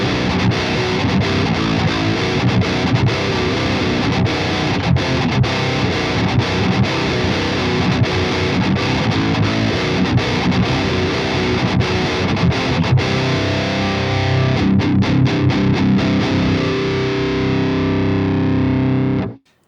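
Heavily distorted electric guitar played through the Bogren BDM Ampknob amp plugin in its default mode, with chunky rhythmic riffing that runs loud and steady for about nineteen seconds before cutting off abruptly.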